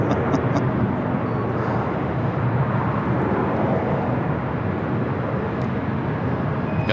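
A Delta Airbus A321 at Los Angeles airport makes a continuous broad jet roar, steady and fairly loud at a distance, with no voices.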